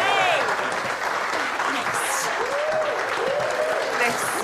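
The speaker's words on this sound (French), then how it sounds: "Mesdames et messieurs, je vous demande d'applaudir Madame Stella Harris." An audience bursts into steady applause for an actress, a continuous wash of clapping at even loudness, with a voice speaking over it at times.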